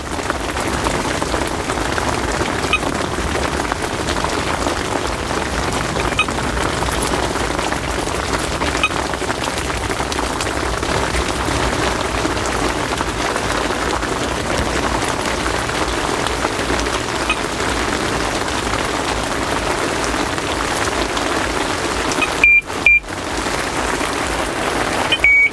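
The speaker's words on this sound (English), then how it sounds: "It's really chucking down the hail now" Hail pelting down during a March carp-fishing session, a dense, steady hiss of pattering impacts lasting the whole stretch, with a brief electronic beep near the end.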